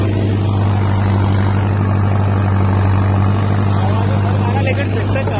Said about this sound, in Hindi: लेकिन ट्रैक्टर चला रहा है।